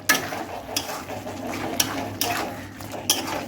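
Spoon stirring spices, salt, sugar and garam masala into a vegetarian curd and pointed gourd curry in a pan, with a few sharp scrapes and clinks against the metal over a soft, steady cooking hiss.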